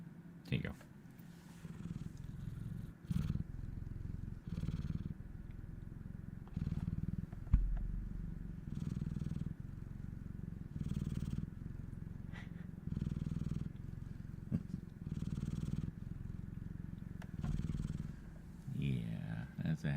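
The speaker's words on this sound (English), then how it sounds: "You guys want to hear some purrs?" A cat named Eclipse purrs in rhythmic low rumbling pulses, close and steady, with someone talking softly between the purrs.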